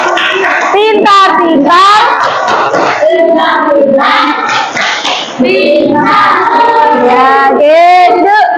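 A primary school classroom of children performs the 'tepuk pintar' clap chant, many young voices shouting the rhythmic chant loudly in unison, with claps mixed into the close, energetic group sound.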